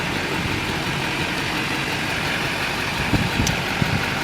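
A 2004 Duramax LLY diesel pickup truck with stock exhaust idles steadily at a park, a low continuous rumble with light traffic noise in the background and a couple of faint knocks near the end.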